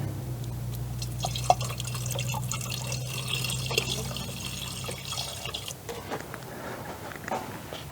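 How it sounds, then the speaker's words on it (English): Distilled water trickles and drips steadily into the coolant reservoir of a BMW X3 under a low, constant hum, with occasional small splashes. "So now we're going to top this off with distilled water"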